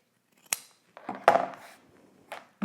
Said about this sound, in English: I'm gonna go ahead and trim the bottom, trim the corner